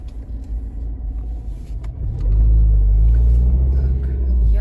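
A car drives along a city street in the evening, its engine rumble steady at first and then swelling louder and deeper about halfway through as it speeds up, with no talk.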